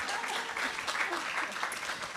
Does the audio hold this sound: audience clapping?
yes